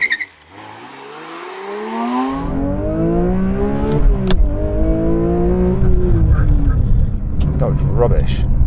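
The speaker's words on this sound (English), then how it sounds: "I'm going to dump the clutch, so." A Porsche 911 S/T with a manual gearbox launches from a standstill with the clutch dumped: the engine note dips and bogs, then climbs through loud, rising revs that stay close and continuous. A faint voice is heard briefly at the start.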